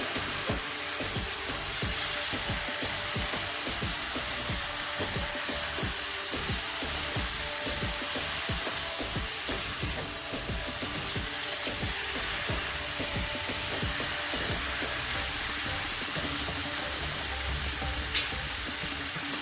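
Pre-fried potatoes and capsicum stirred in a hot pan, with a continuous close sizzle and rapid, repeated scraping stirs that run steadily throughout. One sharp clink comes near the end, and no one talks.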